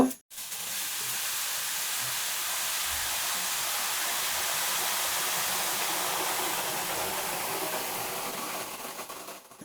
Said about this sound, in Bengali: এখন আমরা এতে গরম পানি দিয়ে দিব